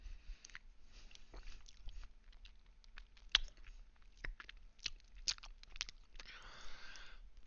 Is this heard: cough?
no